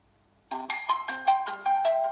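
A short, bright electronic startup chime of rising synthetic tones rings out from an Oukitel A28 smartwatch, clear and close, after a moment of near silence.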